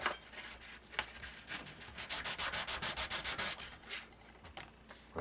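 A wooden sanding block rubbed back and forth along a guitar neck during a refret, close and clear: scattered single scrapes, then a run of about a dozen quick rhythmic strokes, then more irregular rubs.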